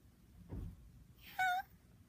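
A person imitates a cat's meow with one short, tonal, rising-falling vocal meow after a brief low thump, in an otherwise quiet room.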